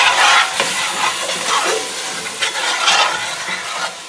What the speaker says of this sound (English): We're going to deglaze this pan.